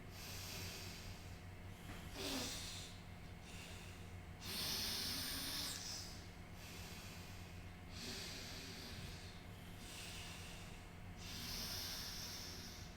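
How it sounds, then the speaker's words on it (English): Slow alternate nostril breathing from the Anulom Vilom yoga exercise: long, soft nasal inhales and exhales in a steady rhythm, close and fairly quiet, with no talking. "Anulom Vilom, alternate nostril breathing."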